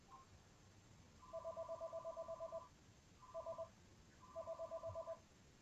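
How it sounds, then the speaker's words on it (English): A telephone rings in three bursts of rapid warbling trills, the first long and the next two shorter, heard faintly with quiet background between. "While the phone is ringing"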